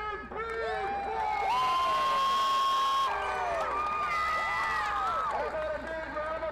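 A crowd at a monster truck show cheers and shouts, with children's voices rising in long excited calls over a steady roar, some clapping mixed in throughout.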